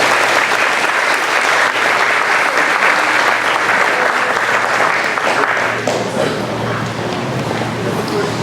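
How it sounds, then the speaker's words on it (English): Loud, sustained applause fills the room at a school board student recognition event, a continuous wash of many clapping hands that eases slightly toward the end, with faint voices underneath. "So let's give her a round of applause."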